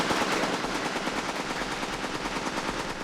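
Rapid automatic gunfire from a movie prop gun shooting blanks with a small muzzle brake, a loud, dense burst of close shots running steadily through the whole stretch.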